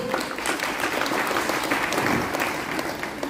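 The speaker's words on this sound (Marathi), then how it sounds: "त्या कायद्याला विरोध म्हणून सगळ्यांनी टाळ्या वाजवायच्या" A crowd at a political rally in Satara claps in sustained, dense applause, loud and continuous throughout with no break.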